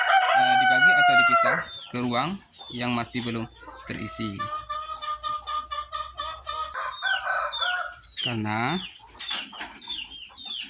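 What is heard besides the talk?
chickens clucking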